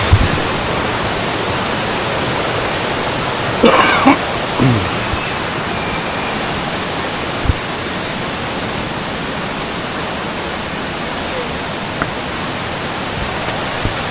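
Roar of one of Malaysia's tallest waterfalls heard from near the falls, a dense, loud, unbroken wash of falling water that stays steady throughout, with a few faint knocks and brief bird chirps.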